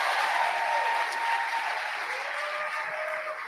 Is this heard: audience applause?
yes